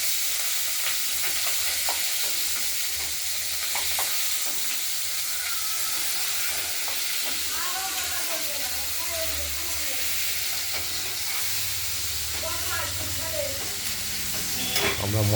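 Tomato frying and being stirred with ground spices in a pan for a katla fish curry with potato and beans; a steady, close sizzle runs throughout with intermittent stirring scrapes and no talking.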